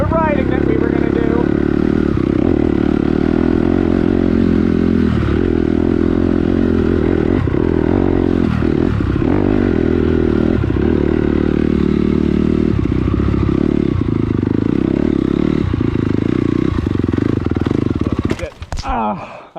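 A CRF250R race dirt bike engine runs loud and steady on a dirt trail with clattering mechanical noise, then sputters and cuts out as it stalls at the very end.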